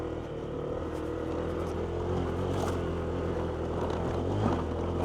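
A Honda ADV 160 scooter engine labours at full throttle up a steep off-road hill, a steady, loud drone that holds near and continuous throughout without any talk.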